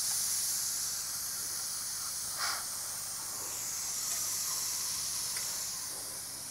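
Pressure cooker with mutton head venting steam, a steady broad hiss running throughout with a brief sharper burst midway, fairly faint and continuous, no voices.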